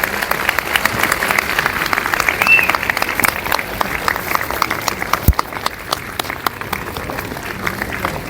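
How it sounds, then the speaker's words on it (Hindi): Hall audience clapping at a gathering as officials are called onto the stage, a steady, moderately loud wash of many hands with sharper individual claps standing out. "अरे जोरदार तालियां बजाओ यार"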